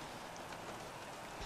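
Heavy rain falls in a racing video game during a Canadian Grand Prix league race, a dense constant hiss of downpour at moderate level with no voices.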